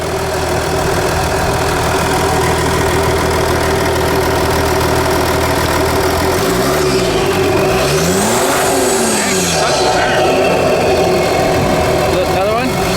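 Ford F-150 with a 3.0 V6 Powerstroke diesel revved in a garage setting, rising and falling twice with a faint turbo whine, close and loud over a steady idle, with people talking nearby.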